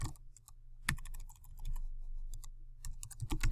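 Typing on a computer keyboard at a desk, bursts of quick close key clicks separated by pauses, with a low steady hum beneath and no voices.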